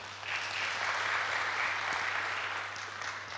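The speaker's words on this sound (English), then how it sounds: "Put a round of applause for Azim one more time." Audience applause at a sales conference, an even wash of many hands clapping that holds steady for a few seconds over a faint low hum.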